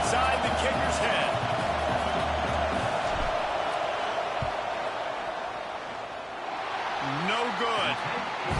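Stadium crowd roaring steadily during a fourth-down field goal attempt in a Wisconsin college football game, a sustained loud wash of voices with scattered whoops and a commentator talking over it.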